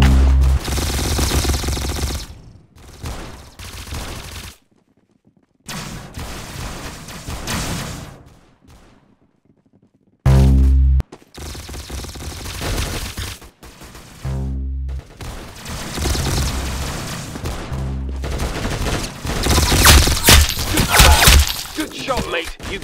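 Video game gunfire in rapid bursts and single loud shots with a sharp, crackling impact, broken by brief silent gaps, alongside excited chatter from players.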